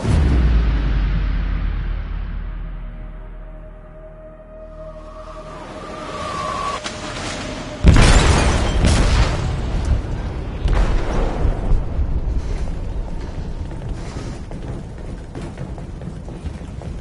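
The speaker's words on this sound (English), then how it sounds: "They detonated an explosive in the hold." An explosive detonated in a ship's hold in a video game: a sudden heavy blast cuts in after a quieter rumbling stretch, followed by a long roaring, crashing aftermath of debris and churning noise.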